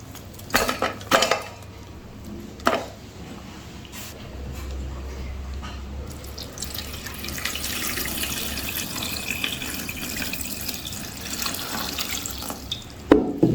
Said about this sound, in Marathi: मी चिंच छान स्वच्छ धुवून घेणार आहे पाण्याने